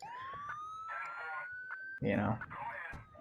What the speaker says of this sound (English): We had a police car driving by